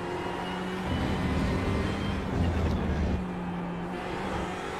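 A race car engine drones steadily on a track, swelling slightly as it picks up speed, heard from inside the cockpit and fairly loud throughout.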